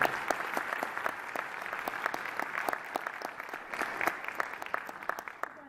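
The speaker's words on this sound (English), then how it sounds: "All right, let's give her another round of applause." Steady applause fills the room at an awards ceremony for distinguished African American scholars, many hands clapping evenly throughout with no talk on top.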